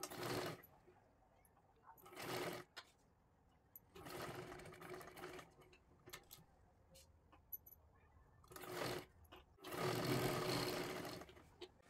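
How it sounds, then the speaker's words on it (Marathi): Sewing machine stitching a blouse sleeve, running in several loud bursts of steady whirring separated by brief quieter pauses, close by with no talk. "आता ही सुद्धा बाही आपल्याला ह्याच्यावरती ठेवून व्यवस्थित आपल्याला शिलाई करून घ्यायची आहे"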